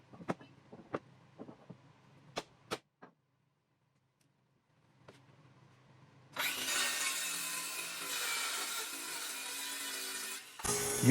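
A power saw rips through a poplar board: a few sharp knocks and ticks, a quiet pause, then a loud, steady whine of the blade cutting for several seconds before it abruptly stops.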